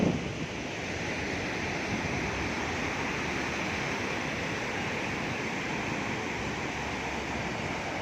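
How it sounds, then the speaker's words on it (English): Steady, continuous roar of sea waves washing onto Calangute Beach in Goa at night, a broad even wash with no distinct breaks, recorded close and fairly loud with some wind on the microphone. "Here is the sea"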